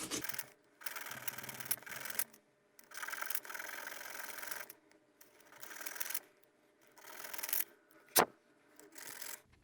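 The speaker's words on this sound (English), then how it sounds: "only sand down like these little nubs" Sanding down small plastic nubs on the jaw of a NECA Godzilla 1964 action figure makes close, soft rasping strokes in bursts, separated by quiet pauses, with one sharp click near the end.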